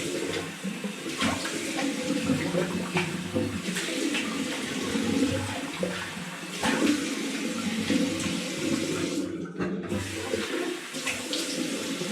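Tap water runs steadily into a bathroom sink for rinsing after a shave with a razor blade, continuous and fairly close, with brief splashes and a short pause near the end and no talk.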